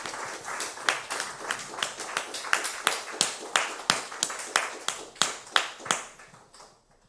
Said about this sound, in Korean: 주님께 영광의 박수 먼저 올려드리시겠습니다.